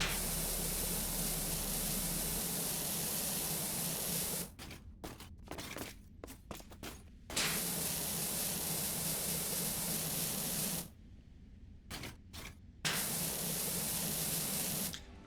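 Pressure washer spraying water in Power Wash Simulator, a loud, steady hissing jet running in long bursts that cut off abruptly, with short stuttering taps and brief gaps in between.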